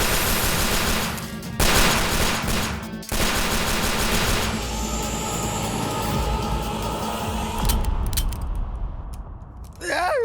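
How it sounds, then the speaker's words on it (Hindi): Loud gunfire bursts at a shape-shifting snake woman, with sharp, rapid shots early on. A rumbling, echoing din follows and slowly fades toward the end. "हमने ना इच्छाधारी नागिन पे गोलियां चला के ना उससे दुश्मनी मोल ले ली है।"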